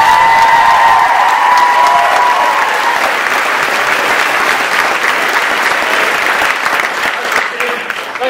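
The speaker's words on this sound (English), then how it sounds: "So a massive round of applause and well done for all of them." Audience at a young farmers' concert giving a loud, sustained round of applause with some cheering, a thick wall of clapping that starts strong and gradually thins toward the end.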